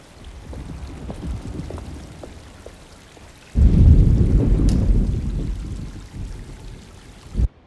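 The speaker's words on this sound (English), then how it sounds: "Just keeping an eye out for the storm. Radio says it could be a wild one." Thunderstorm with rain in the Alone in the Dark video game: a steady rain hiss builds into a loud rumbling thunder burst midway that slowly fades, with a sharp crack near the end.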